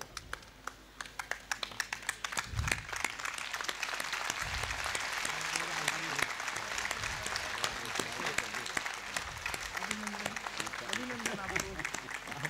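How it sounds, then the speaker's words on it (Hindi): Sustained applause from an audience fills a ceremony inside an ashram, dense clapping rising early and continuing for the full length with voices heard beneath it. "तालियों की गूंज बजती रहे।"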